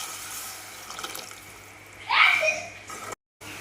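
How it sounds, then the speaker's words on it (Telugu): Water poured into butter chicken gravy simmering in a pan, a short splashing gush rising over a steady background hum, then cutting off abruptly. "ఇలా ఉడుకు పట్టాక వాటర్ వేసుకోవాలి."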